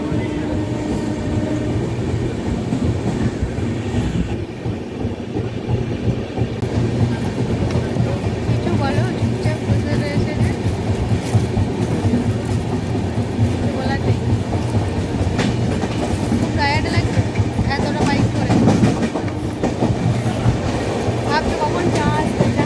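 A moving passenger train heading toward Kolkata after pulling out of a station, with a steady loud rumble and rattling carriage clatter throughout and some faint voices mixed into the continuous noise.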